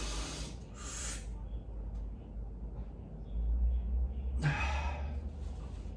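Two forceful breaths drawn in through the nose and mouth during a loaded exercise hold, one at the start and another a few seconds later, each a close, airy rush over a low background rumble.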